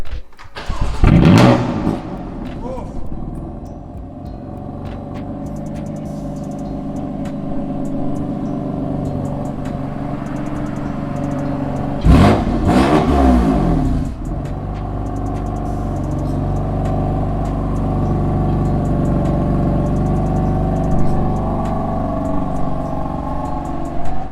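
A Honda Civic Type R FK8 fitted with a downpipe exhaust cranks and fires with a loud burst, settles into a rumbling idle, then gives a sharp rev before droning on at a steady, close idle.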